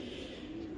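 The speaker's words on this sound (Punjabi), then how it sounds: "ਲੋ ਭਾਜੀ ਇਹ ਹੀ ਉਹ ਕਬੂਤਰ ਸਰ।" A pigeon gives a short, soft coo, faint and close, with no other sound around it.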